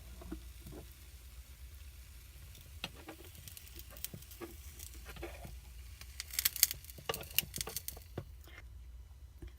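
An egg fries in an overly hot XYY 6-inch mini skillet, making a quiet, steady sizzle broken by scattered crackles and pops that grow busier and sharper toward the end.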